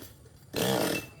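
A chainsaw roars into a cut for about half a second while a tall mango tree is pruned high overhead. The burst is loud and close, with quiet ambience before and after it.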